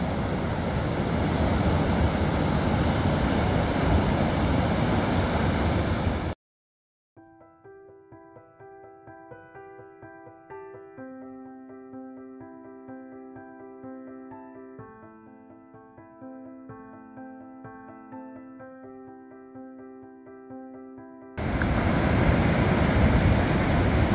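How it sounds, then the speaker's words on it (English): Ocean surf breaks on the shore of Lewis and Harris as the tide comes in, a loud, steady roar of crashing water at the start and end. Music with no surf replaces it in between. "love the waves when they're like this"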